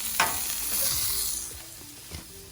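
Raccoon and armadillo meat searing over a campfire, a loud steady sizzle with scattered pops and crackles that eases slightly toward the end, no voices.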